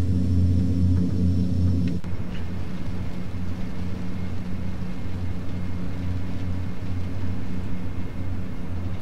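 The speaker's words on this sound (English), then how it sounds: "we're through the rain, but this thunderstorm now is real" Deep, continuous thunderstorm rumble in the FSX flight simulator during a Warsaw to Bornholm flight, a loud low roar that holds steady throughout without speech.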